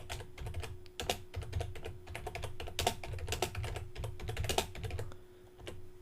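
Rapid, close clicking of a computer keyboard as someone types text into a web page builder, steady taps with a few brief pauses and no talk.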